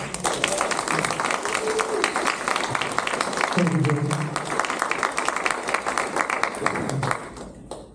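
An audience at an LA SIGGRAPH careers-in-digital-media talk applauds a speaker, a sustained crowd clapping that runs for several seconds while a voice speaks over it, then tapers off near the end.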